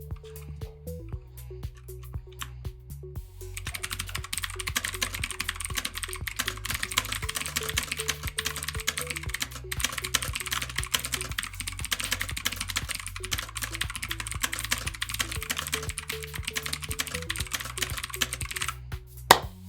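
Steady rapid typing on a Bluetooth RGB mechanical keyboard fills the whole stretch, dense clacking keystrokes close up and fairly loud, with no talking.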